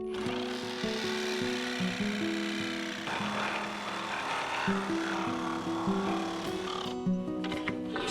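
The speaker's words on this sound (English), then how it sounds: "So I'm gonna cut this bottom plate out" A power saw cuts out a wooden bottom plate at a house build site, a steady buzzing whine with shifting pitch as the blade works through the wood, running continuously with a brief change partway through.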